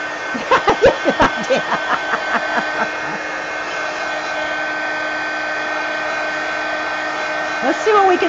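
A hair dryer blows steadily and close up, drying pages covered in wet ink, its whine constant from start to finish, with a few soft voiced sounds and short bumps over it in the first seconds.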